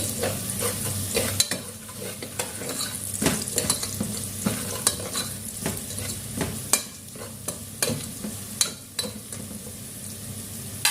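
Chicken pieces for an Indian-style curry fry and get stirred in a pan as they start to brown, giving a steady close sizzle broken by repeated scraping stirs and clinks throughout, with no talking.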